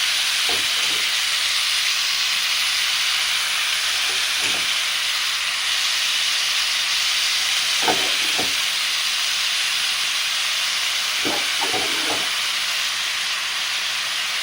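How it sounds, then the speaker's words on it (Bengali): Silver carp pieces coated in spice paste steam under a lid on low heat with no added water, giving a constant loud hiss with a few soft pops and clicks scattered through, no voices. "অল্প অল্প তাপ দিয়ে ঢাকনা দিয়ে দেবো"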